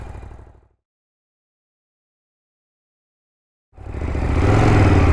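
A Ducati Monster 821 naked street motorcycle, its engine and exhaust rumbling briefly before a stretch of silence, then surging back loud and close as the engine revs up into the ride.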